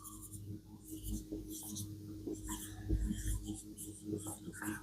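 Chalk or marker writing on a classroom board comes through as short, scratchy strokes in irregular bursts, fairly close and clear, with faint room noise beneath.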